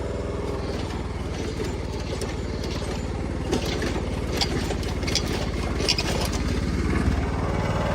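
A John Deere 260 lawn tractor, its hitch loaded with wet sand, runs steadily up close after a clutch pop in second gear. The engine holds a continuous mid-pitched drone with faint rattles, with no talking.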